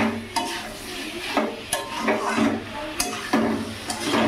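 Pointed gourd and prawns being stirred in spice paste over a raised gas flame: rhythmic, close scraping strokes of a spatula in the pan, repeating every half second or so, with a light sizzle underneath.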